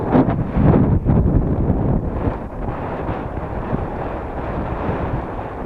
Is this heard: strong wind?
yes